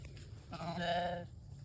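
Sheep on a small farm bleat once, a single drawn-out, fairly close call about half a second long, rising over a low steady background hum with no talking.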